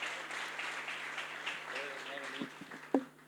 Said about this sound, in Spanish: Denles un aplauso a este hermoso equipo.